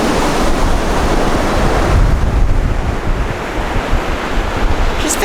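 Storm-driven surf and strong wind on a Breton beach at Trestraou, a loud continuous roar of breaking waves with heavy wind buffeting close to the microphone.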